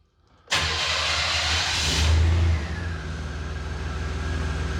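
An OBS truck engine cranks and catches abruptly after a moment of quiet, roaring up briefly before settling into a steady, rumbling idle, close and loud with no voices.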